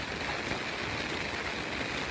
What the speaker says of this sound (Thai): แล้วฝนตก